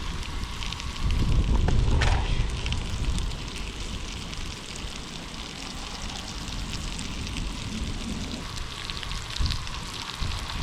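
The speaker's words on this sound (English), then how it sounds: "Here comes that wind again." Gusty wind buffets the microphone at an outdoor campsite in Colorado, a steady roaring rush with a stronger gust early on, continuous and fairly loud with no talk.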